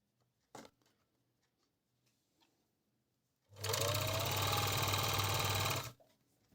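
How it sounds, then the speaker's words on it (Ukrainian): A Juki MO-814 overlock machine runs on thin fabric, first a few faint handling clicks, then a loud, steady, rapid mechanical whir for about two seconds before it stops abruptly. "для порівняння я вам покажу, як працює оверлок"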